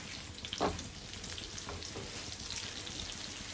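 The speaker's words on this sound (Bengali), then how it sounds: "দেখো এখানে এটা ভাজা প্রায় হয়েই গেছে, এটা আমি এখন নামিয়ে ফেলবো।" Food fries in a pan with a faint, steady sizzling hiss throughout and a single brief clatter near the start.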